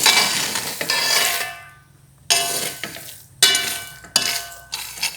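Thick peanut paste being stirred in a pot, with scraping strokes and clinks of the spoon against metal, broken by short pauses between bursts of stirring.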